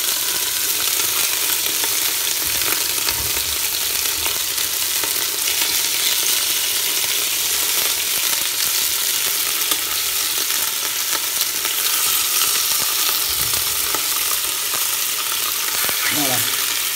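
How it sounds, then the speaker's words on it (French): Beef sizzles and browns steadily in a hot pot, a constant crackling hiss with occasional stirring scrapes. "Et je vais faire dorer ma viande."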